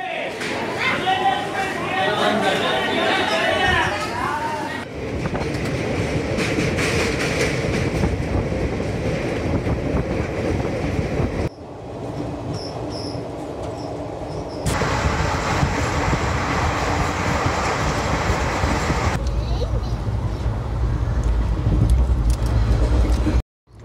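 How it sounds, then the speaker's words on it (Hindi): A passenger train arrives at Vijayawada railway station in hot sun, with loud rumbling, rattling carriages and clickety-clack of wheels on track, broken into several abrupt sections, with voices in places. "हम विजयवाड़ा स्टेशन में पहुंच गए हैं"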